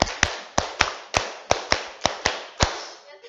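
A school class claps a rhythmic routine together: eight sharp, unison hand claps in an uneven pattern, close and loud, with no talking over them.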